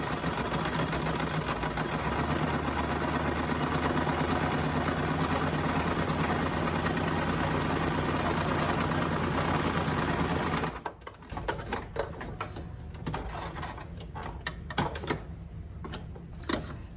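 A sewing machine stitches a seam across a folded cloth piece for a primitive doll, a steady continuous mechanical whir for about ten seconds, then stops, leaving light handling noises and rustling.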